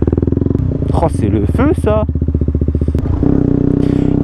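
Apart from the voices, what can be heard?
motorcycle engine running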